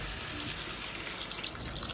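Water poured into a pan of crab fry, a steady faint splashing and trickling that runs throughout without talk.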